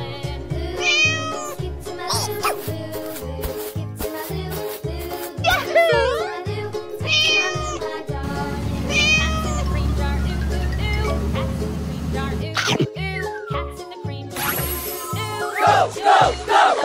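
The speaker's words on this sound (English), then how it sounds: "Cat." Repeated cartoonish meows ring out over a busy, pulsing electronic backdrop with chattering effects and a steady droning stretch in the middle.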